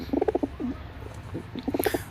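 Pigeons perched on overhead wires give repeated soft, low cooing phrases, a burst early and another near the end, fairly close and clear with no talking.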